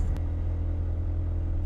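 Steady, close engine rumble and drone from an auto rickshaw on a ride near the Konkan coast at Ratnagiri, a continuous low hum with no talk.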